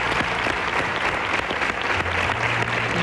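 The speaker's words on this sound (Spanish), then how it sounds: "Pues le damos un aplauso, Francisco José, felicidades." A studio audience at a television show bursts into steady, sustained applause, dense clapping filling the whole stretch at close range.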